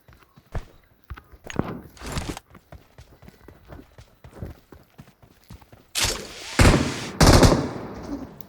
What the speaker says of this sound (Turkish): Aha bana da sıkıyor biri.